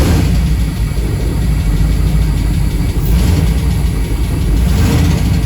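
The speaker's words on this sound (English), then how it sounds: "Okay, I'm gonna turn on the car now." A Pontiac Trans Am engine, rebuilt after an LS swap was undone and later found to have a bad lifter tick, idles in neutral with a loud, steady, close-up rumble and no voices.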